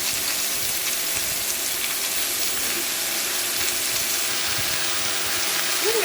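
Onions, mushrooms and zucchini fry in hot oil with a loud, steady hissing sizzle that holds evenly from start to finish, close and without talk.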